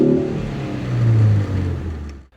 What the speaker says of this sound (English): I have to point out the car's exhaust note, which is pretty cool